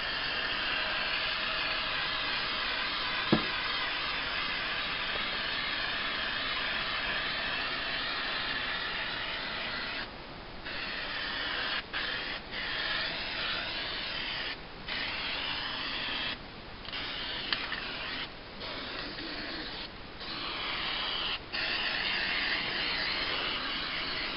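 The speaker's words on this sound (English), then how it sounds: "I spray this cardboard pretty good." A long, continuous hiss from an aerosol spray can sprayed onto cardboard, steady and close, broken now and then by short pauses as the nozzle is released and pressed again.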